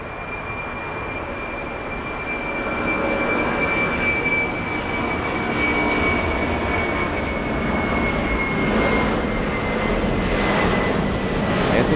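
A Boeing 747 jet takes off down the runway at LAX, a steady, distant roar of jet engines that swells slightly as it accelerates, with a faint high whine throughout and no voices.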